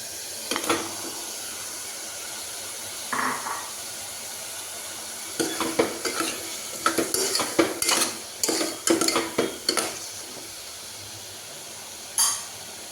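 Mutton trotters for paya being stirred in a hot pan, with spoon scrapes and clatter against the pan in irregular bursts over a soft frying hiss.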